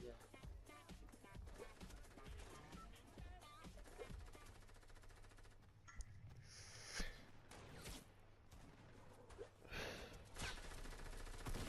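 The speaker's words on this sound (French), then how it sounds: "Ça tire, ça tire, ça tire, ça tire." Video game gunfire rattles in sustained bursts under continuous excited voices as players talk over the shooting throughout.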